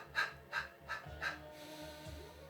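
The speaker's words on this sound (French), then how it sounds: "Respiration saccadée." Staccato breathing during a Pilates exercise, four sharp, evenly spaced breath pulses driven from the belly, close and fairly soft, then a quieter stretch of fainter breath.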